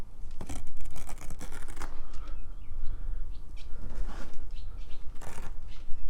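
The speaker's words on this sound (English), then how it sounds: "There's the Velcro." Velcro fasteners on a Dodge RAM 1500 seat cover are torn apart in a run of close, scratchy ripping sounds, with handling and rustling mixed in throughout.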